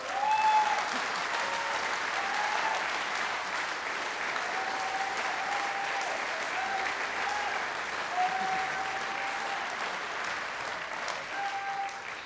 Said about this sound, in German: Nochmal einen grossen Applaus für euch.